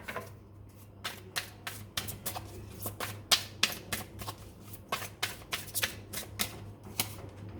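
Tarot cards drawn from a deck in a rapid string of crisp papery snaps and flicks, close and steady, with no talking.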